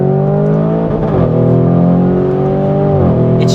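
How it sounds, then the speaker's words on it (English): Lamborghini Urus exhaust heard from inside on the road, a loud, rich engine drone that climbs and settles as the throttle is blipped, with no talk. "just so you can hear the exhaust more than anything."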